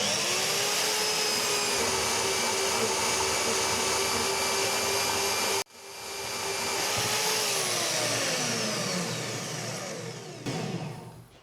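A VEVOR band saw runs at a raised speed setting, a steady high motor whine that cuts out abruptly midway, then spins back up and winds down toward the end.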